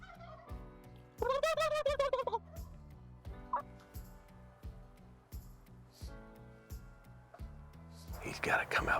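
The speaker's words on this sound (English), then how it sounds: "I'll see if I can get him to gobble" A Merriam turkey tom on a spring hunt lets out one loud, rolling gobble early on, then quieter scattered sounds and soft, low human murmuring follow.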